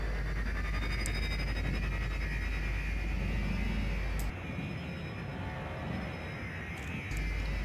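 Spaceship thrusters fire in Elite Dangerous as the ship pitches up toward the station with downward vertical thrust to dock. A steady, loud, broadband roar with a deep rumble that drops out briefly near the end before returning.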